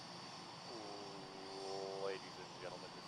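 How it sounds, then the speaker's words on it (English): A low, faint airplane engine drone and cabin hum runs steadily in the background while a person talks over it. "Airplane, not bus."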